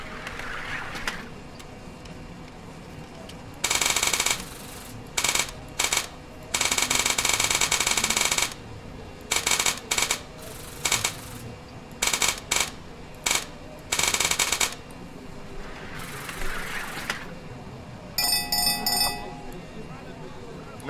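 Rapid bursts of gunfire in a video game, loud machine-gun-like volleys in separate clusters alternating with quieter gaps, with someone talking over them and a clinking chime near the end.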